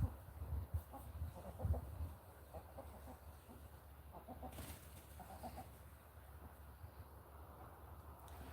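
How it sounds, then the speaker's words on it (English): Chickens cluck softly around a farmyard, scattered low calls that are strongest early on and fade into a faint outdoor background. "my new chickens that I got on Saturday"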